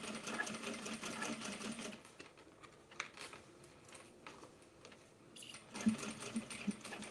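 A sewing machine stitches around a small flap on upcycled cow print pants, a quiet, rapid mechanical whirr that runs in short bursts with brief pauses between them.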